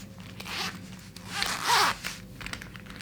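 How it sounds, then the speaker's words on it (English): Metal zipper pulls sliding onto the coil of a laptop bag zipper during sewing, giving two short, close zipping rasps that rise and fall, with faint handling rustle between them and no talk. "So now you can insert your zipper pulls."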